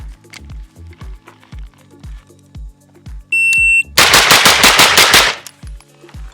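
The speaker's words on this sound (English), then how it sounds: "we're just gonna get through them and just see how that gun feels shooting from target to target" A pistol fires Supervel ammunition at several targets about six or seven yards away. A shrill shot-timer beep is followed by a fast, loud string of roughly eight shots, over steady low thumping.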